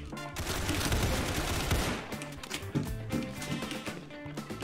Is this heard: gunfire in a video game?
yes